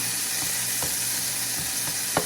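Butter sizzles steadily in a pan, a soft continuous hiss with a few faint pops and a small clink near the end.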